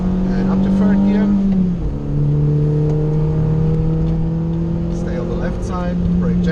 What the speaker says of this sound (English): a bit of throttle, more, and go. And up to third gear